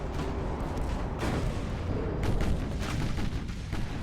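Naval gunfire from the battleship Westfalen in the naval combat game Ultimate Admiral: Dreadnoughts, heard as a continuous dense rumble with heavy low booms that swell and roll together, with no pauses between shots.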